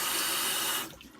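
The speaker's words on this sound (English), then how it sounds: "I'm not going to turn this up really loud because water's really loud" Tap water runs steadily and loudly into a sink while a makeup brush is rinsed, a close, continuous rushing that cuts off near the end and leaves a quiet room.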